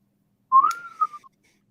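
One short whistle from a person on a livestream, a single rising then level tone lasting under a second, clear against silence.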